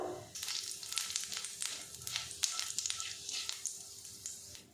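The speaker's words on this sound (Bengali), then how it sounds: "তেলটা গরম হয়ে গেছে। এবার এর মধ্যে দিয়ে দেব 5 ফোড়ন।" Panch phoron whole spices crackle and sizzle in hot oil, a faint but dense spray of close popping and frying with no voice over it.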